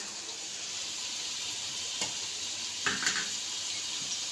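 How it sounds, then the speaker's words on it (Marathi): Quiet, steady sizzling of potatoes and eggplant sautéing in oil, broken by a few soft scrapes from stirring. No one speaks. "बटाटा, वांगा थोडंसं तेलातून परतून घेते"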